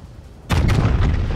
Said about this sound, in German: Schnell noch die Schüsse raus, bevor die Montana da hinter der Insel ist.